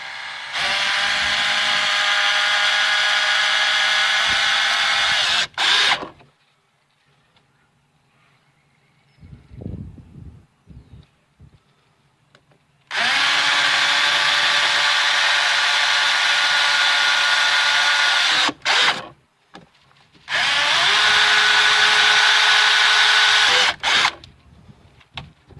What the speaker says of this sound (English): So I'm gonna drill a couple holes here in this hinge gutter.